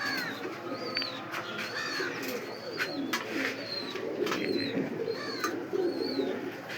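Pakistani high-flyer pigeons coo softly and steadily in caged farm coops, with repeated low murmuring calls layered alongside several brighter chirps from other birds and faint clicks.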